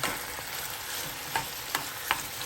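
Shrimp paste sautéing with pork, onion and tomato in a pan, giving an even close sizzle broken by three sharp scrapes of a spatula.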